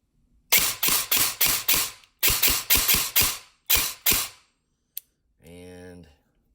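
A Cobalt Kinetics airsoft gun fires on semi-auto: a dozen sharp, evenly paced mechanical shots in two bursts, close and loud, followed by a click and a brief whirring buzz.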